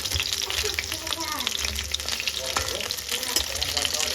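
Pakoras frying in a small amount of oil, a steady crackling sizzle running throughout with some clatter and water-like noise mixed in at moderate loudness.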